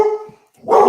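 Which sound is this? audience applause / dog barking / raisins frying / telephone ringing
dog barking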